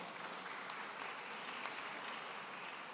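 Applause from a crowd, steady dense clapping heard from a distance and fairly faint, holding at an even level throughout.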